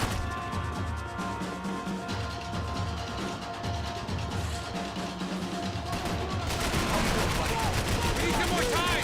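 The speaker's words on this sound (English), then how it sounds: "I can't concentrate with bullets whizzing past my head!" Gunfire crackles in Max Payne 3 in steady repeated bursts under a continuous busy din, growing louder and denser toward the end, with voices talking among the shots.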